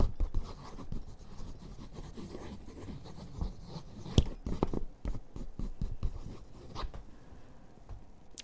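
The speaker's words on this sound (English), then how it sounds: "I'll just write that down." A pen scratches and scribbles on paper in close, quiet strokes of varying length, with soft taps and rubbing between them in a calm bar setting.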